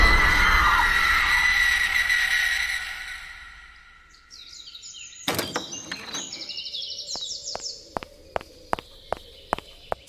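Ghostly screams ring out amid music in a horror audio drama, a loud cluster of shrill, wavering cries that fade over several seconds. Sharp knocks and scattered step-like clicks follow.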